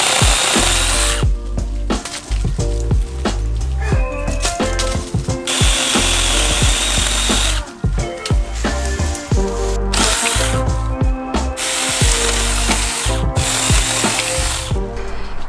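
A small battery-powered saw cuts through little trees in a yard, whining loudly in repeated bursts with short pauses between cuts, close to the listener.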